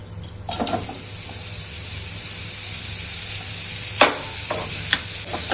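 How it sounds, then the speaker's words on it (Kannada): Pieces of pumpkin roasting in a pan for sweet pumpkin payasam, a soft steady sizzle broken by a few sharp scrapes and stirring taps of a spoon. "ಕುಂಬಳಕಾಯಿನ ಸ್ವಲ್ಪ ಹುರ್ಕೋತಾ ಇದ್ದೀನಿ"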